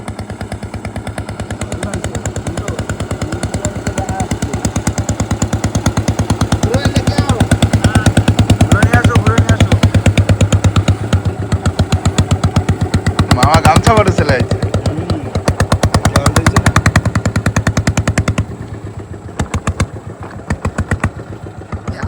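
A boat engine runs on a river creek in the Sundarbans, giving a steady, close, rapid chugging drone that keeps going throughout, with people talking over it at times.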